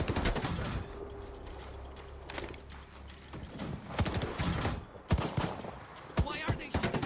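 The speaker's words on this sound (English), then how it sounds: "Why are they shooting at us?" Bursts of gunfire in S.T.A.L.K.E.R. 2: Heart of Chornobyl, sharp cracks scattered irregularly through a noisy background, growing denser and louder toward the end.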